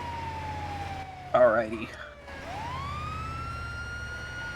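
Wailing emergency vehicle sirens in a police roleplay game, a sweeping tone gliding down then rising again continuously, with a brief spoken word over the top.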